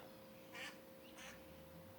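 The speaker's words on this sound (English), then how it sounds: "That duck agrees with me." A duck quacks twice, with two short, faint calls from a distance over a steady background hum.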